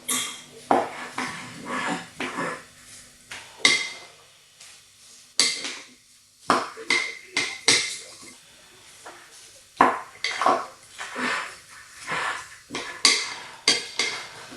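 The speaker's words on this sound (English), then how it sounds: "give it a good mix up." Chicken and orzo salad with tomatoes being mixed in a bowl, a close run of repeated clattering scrapes and clinks of a utensil against the dish, in bursts with brief pauses, with no voices.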